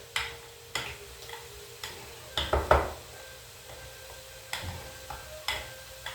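Potatoes get mashed in a pot for a non-traditional shepherd's pie: a steady run of soft tapping knocks as the masher hits the bottom, with a cluster of louder, squelchier strokes in the middle.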